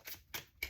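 Tarot cards are shuffled up close, three quick, soft riffling bursts, faint and with no talk.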